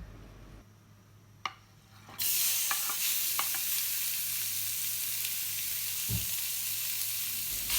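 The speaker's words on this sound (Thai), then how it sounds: "เราจะรวนเนื้อไก่แห้งๆก่อนนะคะ" Chicken sizzles and crackles loudly in a hot pan over medium heat with a steady frying hiss, punctuated by a few stirring scrapes and clinks.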